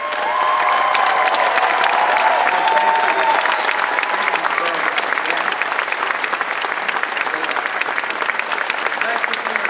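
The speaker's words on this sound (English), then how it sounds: "I want everybody to give you a round of applause." A large crowd at a Star Wars Weekends 2014 stage event gives armed forces veterans a loud, continuous round of applause, with dense clapping and some cheering throughout.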